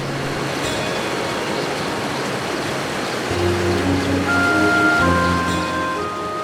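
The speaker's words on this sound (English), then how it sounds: "the waters tumble wildly and wonderfully into natural pools" River water tumbling wildly into natural pools in a Caribbean island nature sanctuary, a continuous broadband rush of flowing water with a low rumble joining partway through.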